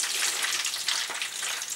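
Steady, bright sizzling of chicken frying in a hot pan, a constant crackling hiss with no voices.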